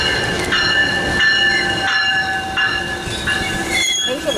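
Amtrak Pacific Surfliner passenger train passing close by, a loud steady rumble of rolling cars with sustained high metallic wheel squeal and rhythmic clatter, on a windy day, no talking.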